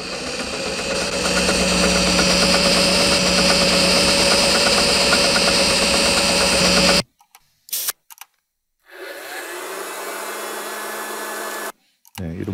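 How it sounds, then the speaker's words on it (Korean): A loud, steady motor drone hums with a rattling vibration for about seven seconds, then cuts off abruptly; fainter mechanical whirring and clicks follow in short bursts. "모터 소리들"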